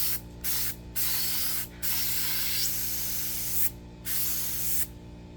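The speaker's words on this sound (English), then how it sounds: "So let's give it a little spray test." A Harbor Freight paint spray gun at 40 PSI hisses in four close, steady bursts separated by short pauses, each blast a loud broadband spray.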